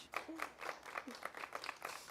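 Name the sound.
audience clapping for the wedding assistants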